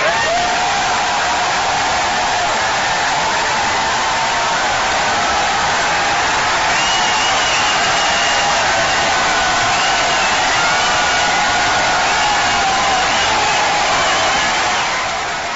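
A crowd of roughly 4,000 people cheering in a packed giant auditorium at a Ron Paul event, a dense sustained roar of applause and shouting, loud and continuous throughout, heard as a muffled broadcast recording.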